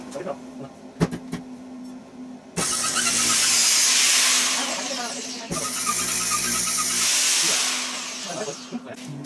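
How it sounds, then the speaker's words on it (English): Steel T-piece for a Jeep kayak rack being tack welded, a loud broadband crackling buzz in two long bursts with a pause between, preceded by brief knocks and a faint low hum. "we're going to take and tack this T together"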